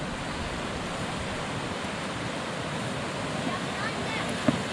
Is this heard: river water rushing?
yes